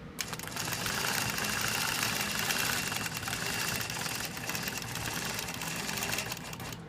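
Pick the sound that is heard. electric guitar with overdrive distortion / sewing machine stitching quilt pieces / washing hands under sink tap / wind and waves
sewing machine stitching quilt pieces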